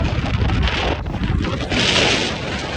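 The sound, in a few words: wind blowing into the microphone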